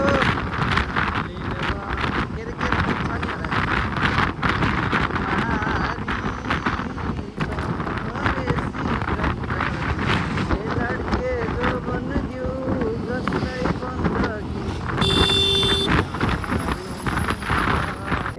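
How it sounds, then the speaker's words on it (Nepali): Strong wind roars and buffets the microphone steadily at Mugling bridge in Nepal, with a voice speaking underneath and a faint high tone briefly near the end. "यस्तो मिठो हावा चलिरहेछ"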